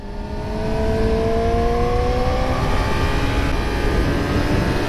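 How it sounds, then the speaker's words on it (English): A 2019 Yamaha R6 sport motorcycle engine revs up with steadily rising harmonic whine, a continuous loud hum that climbs in pitch over a few seconds, close and without talk. "lepo ubrzava, ali više bruji nego što ubrzava"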